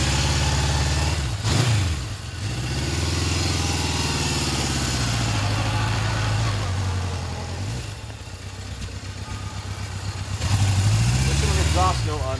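A 1978 Honda CB750 motorcycle idling and blipping its throttle, the four-cylinder exhaust giving a deep, steady burble with a few sharp revs that rise and fall, recorded close up.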